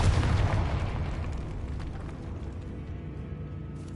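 A Confringo blasting spell detonates in the Hogwarts Legacy video game, a loud booming explosion at the start that rumbles and decays into a long fading roar without speech.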